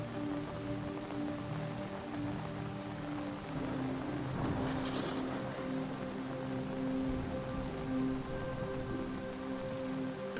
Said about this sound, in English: As it continues to rain,